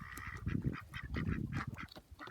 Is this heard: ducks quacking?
yes